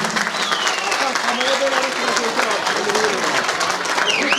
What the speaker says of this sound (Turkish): Hadi bir alkış olsun oğlum.